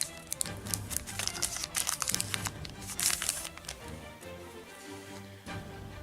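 Speed Duel trading card packs from the L'arène des âmes perdues display are torn open, with close, irregular wrapper crinkling and small ticking clicks, loud in bursts and then quieter, no talk.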